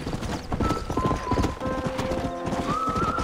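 Horse hooves clip-clop steadily in Red Dead Redemption, with a brief whinny and music-like game ambience layered over the continuous rhythmic footfalls.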